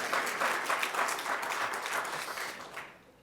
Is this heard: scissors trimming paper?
no